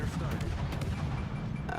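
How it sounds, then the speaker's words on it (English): Naval gunfire in the video game World of Warships: Legends rumbles as dense, overlapping booming volleys, steady and heavy, under a commentator's talk. "They're exchanging gunfire."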